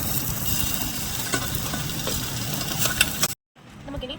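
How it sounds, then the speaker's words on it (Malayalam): Chopped onion sizzles and fries while being stirred in a kettle for tomato chutney, a close, steady crackle that cuts out abruptly near the end before a quieter clatter resumes. "സവോള ഒന്ന് വഴറ്റിയെടുക്കാവേ"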